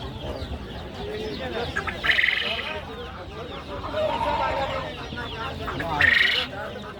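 Chickens at a busy poultry market cluck and squawk close by, with several louder bursts rising over a steady din of voices and bustle.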